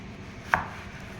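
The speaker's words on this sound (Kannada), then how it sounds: "ನಾನು ನೋಡಿ ಈಗ 4 ಪೀಸಾಗಿ ಕಟ್ ಮಾಡ್ತಾ ಇದ್ದೀನಿ." A single crisp knife cut goes through a banana onto a board, one short close chop amid quiet background.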